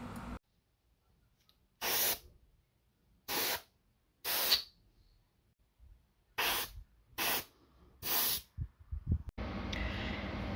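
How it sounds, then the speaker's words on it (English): Clear coat is sprayed lightly onto a Colt Python revolver in a series of short, sharp aerosol hisses, about seven bursts separated by silence, close to the microphone, ending in a longer rushing hiss. "The clear coat needs to be sprayed on very lightly."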